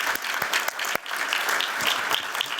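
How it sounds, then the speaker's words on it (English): Audience applause at a housing innovation summit in honour of Clark and Christine Ivory, a full close burst of many hands clapping that stays steady and loud with no talk. "So a big round of applause for Clark and Christine."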